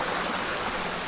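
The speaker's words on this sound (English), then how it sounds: "crossing the most significant little stream, creek, brook, whatever you want to call it" A small stream at Mt. Nebo State Park flows with a steady, close, full rushing babble of water, constant throughout with no talk.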